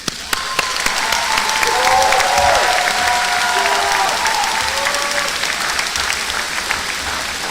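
A convocation audience applauds steadily as a speaker walks to the stage, dense sustained clapping from a large crowd in a hall, with a few faint cheers and voices.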